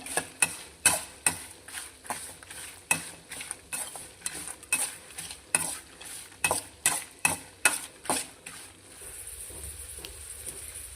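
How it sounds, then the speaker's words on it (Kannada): Urad dal frying in oil in a pan while making vangibath, heard as a soft steady sizzle with repeated sharp scraping and stirring clicks from a utensil, roughly one or two per second, fading to plain sizzle at the end. "ಇಷ್ಟನ್ನು ಹುರ್ಕೊಳ್ಬೇಕು. ಇದು ಲೈಟ್ ಬಿಸ್ಕೆಟ್ ಕಲರ್ ಬರುತ್ತಲ್ಲ, ಅಷ್ಟು ಕಲರ್ ಬರೋವರೆಗೂ ಇದನ್ನು ನೀವು ಫ್ರೈ ಮಾಡ್ಕೊಳ್ಬೇಕಾಗುತ್ತೆ."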